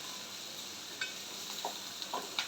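Okra (bhindi) sabzi being stirred slowly in a pan, a low steady sizzle with a few soft scraping strokes of the spoon, close and quiet, no talking.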